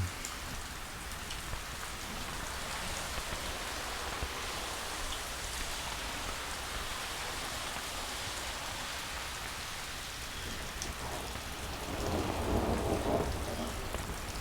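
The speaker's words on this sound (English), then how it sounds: "I don't know if you can hear the thunder out there, but it's rained fairly hard today" Steady rain pours outside an Arkansas homestead while low thunder rumbles, swelling louder toward the end; no voices.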